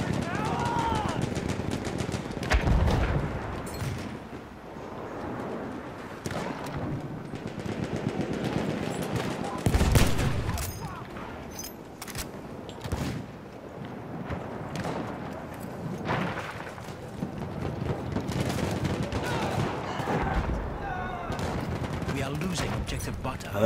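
Bursts of machine-gun fire amid a noisy Battlefield 1 battlefield, with rattling volleys, heavier blasts and clattering sounds mixed together, loud and busy, with voices shouting over the fighting.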